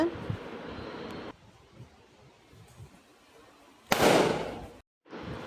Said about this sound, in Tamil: பட்டாசு வெடிக்கிறதெல்லாம் வேடிக்கை பார்த்துட்டு வந்துட்டோங்க